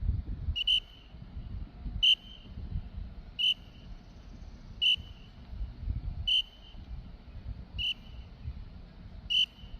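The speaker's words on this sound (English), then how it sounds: "two whistles, you ready?" Sharp whistle blasts in a ski drill training session, repeating roughly every one and a half seconds, each short and piercing over faint low background rumble, no talk.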